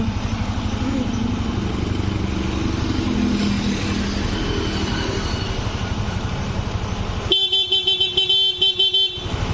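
A rebuilt Yamaha Aerox 155 scooter engine idles steadily and loudly up close, then near the end gives way to sharp metallic clanking and rattling bursts.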